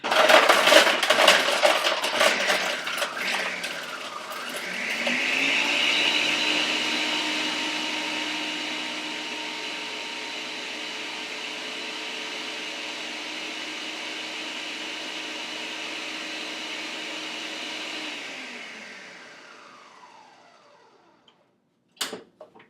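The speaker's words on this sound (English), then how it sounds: "I'm going over here to my Ninja blender" A Ninja blender motor whirs up after some clattering, runs steadily at a loud, even pitch for several seconds blending a Shakeology shake, then winds down and stops.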